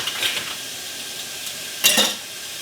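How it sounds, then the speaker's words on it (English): Glass canning jars being washed up, with faint running water and soft clinks of glass, then one brief brighter clatter near the end, close and without talk. "I'm going to go ahead and wash up my jars"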